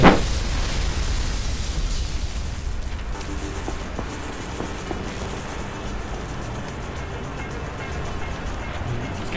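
A loud, rumbling blast from a planted bomb in the video game Saints Row: The Third opens, then settles into a sustained roar of debris and noise that continues steadily throughout.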